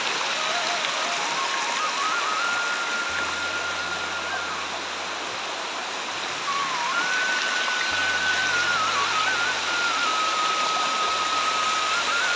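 A river flowing past a village, a steady broadband rush of water that stays loud and even throughout, with a low engine hum and a faint whistling tone in the background.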